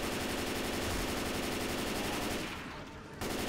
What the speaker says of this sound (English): There's a machine gun on that roof over here.